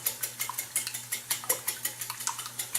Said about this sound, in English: Whisk them up.